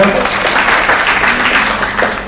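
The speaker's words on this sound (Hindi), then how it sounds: "एक बार आकांक्षा के लिए तालियां हो।" A crowd at a Brahma Kumaris gathering at Sukh Shanti Bhavan breaks into loud, steady applause, dense clapping from many hands filling the whole stretch before tapering slightly at the end.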